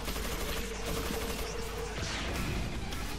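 Rapid gunfire from a handgun in the action video game Devil May Cry 4, a dense stream of repeated shots with mechanical clatter and game effects layered over a constant loud background mix.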